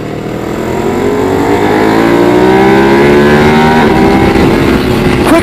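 A motorcycle on a race track accelerates hard, its engine note climbing steadily and loudly up through the revs, with a quick shifter ready for the next gear, close and alone without speech.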